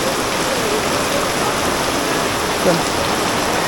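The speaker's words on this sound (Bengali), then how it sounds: "দেখেন কি বৃষ্টি" A loud, constant roar of heavy rainfall drums on surfaces nearby at a market, steady throughout.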